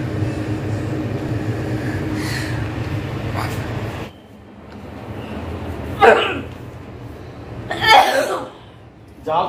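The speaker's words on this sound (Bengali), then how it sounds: "তুমি কাশতেছো আর এখানে দাঁড়াই।" Coughing in a home kitchen during biryani cooking: two sharp, separate bursts come after a stretch of talk and background clatter. People talk during the clip.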